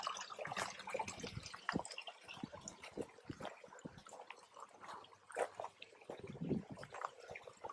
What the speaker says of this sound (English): you might not hear me very well because that's where the waterfalls are coming in